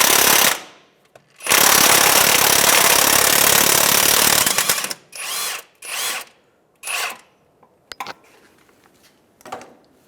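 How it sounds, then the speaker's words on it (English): Impact wrench fitted with a 19mm socket backing out the center crankshaft damper bolt on a 2007-2013 Acura MDX: one long loud hammering burst of about three seconds, then several short rattling bursts, with no talking. "we have a 19mm socket on an impact. We'll go ahead and back that bolt out in the center right now."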